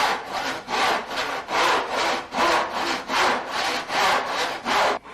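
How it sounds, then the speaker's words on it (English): A back saw cuts wooden trim in a miter box with about ten steady, rhythmic push-pull strokes. The rasping is close and loud with no voices. "Setting the back saw into the slot, you start with a couple backward cuts"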